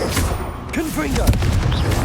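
Spell blasts from the Hogwarts Legacy video game, a Confringo fire spell among them, heard as booming, crackling bursts over busy combat sound effects and a character's shout.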